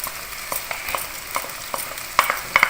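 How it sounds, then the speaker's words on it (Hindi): Ginger garlic paste sizzles gently in a pan while a spoon stirs and scrapes it in a steady rhythm. Sharper clinks come near the end, and no one speaks. "हमने अदरक लहसुन का पेस्ट भी ऐड कर दिया है और इसको भूनना है।"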